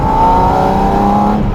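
Porsche 718 Spyder RS with its GT3 engine revving around 4000 rpm as the exhaust valve opens, a loud, close, sustained engine roar heard alone.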